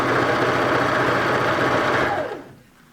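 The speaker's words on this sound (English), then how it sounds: "sewing on the stitch, the overlock stitch line" Overlock sewing machine stitching elastic onto the waistband of nurses' scrubs pants, a steady fast mechanical whir running continuously close up, then stopping and fading at the end.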